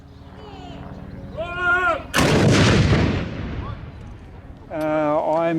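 A 1941 Lithgow-built WW2 3.7-inch anti-aircraft gun fires a blank round at the Godley Head coastal battery. One loud, close boom rolls into a long fading rumble, with people talking just before and after the shot.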